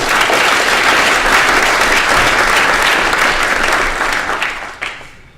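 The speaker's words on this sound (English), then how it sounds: "So, warm round of applause, please, for Chris." Warm, sustained audience applause for the final speaker at a public science lecture on the quantum world, a dense roar of clapping that holds steady, then thins and fades out over the last second.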